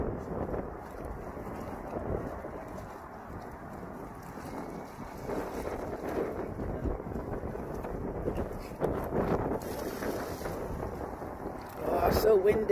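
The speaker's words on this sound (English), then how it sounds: "Oh, so windy." Strong wind by a river, buffeting hard and gusting loudly across the microphone with rushing noise, and a brief voice heard faintly beneath it near the end.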